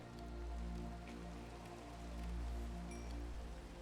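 Steady, dense rain falling in the Minecraft Vault Hunters modpack, a continuous loud hiss of drops hitting surfaces with no talk over it.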